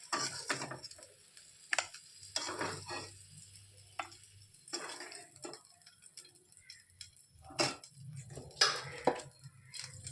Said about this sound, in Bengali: এখন করলাগুলো আমি নামিয়ে নেব এই বেসনের ব্যাটারটার মধ্যে